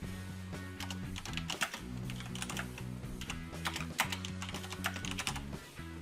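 Someone types text on a computer keyboard, a steady close stream of rapid key clicks that runs throughout, heard over a low, constant hum with layered tonal background sound underneath.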